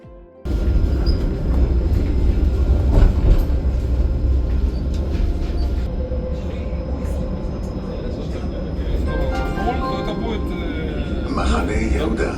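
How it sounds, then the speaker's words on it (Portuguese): A train arrives on rails in Jerusalem, a loud steady rumble and roar of wheels and carriages that carries on throughout, with faint squeals and metallic tones laid over it. "Meu trem acabou de chegar."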